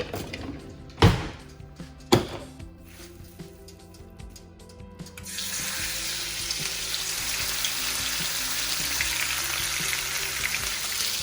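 After two dull knocks, beef sears with flour and seasoning in a pot, giving a steady, loud sizzle that fills the rest of the clip.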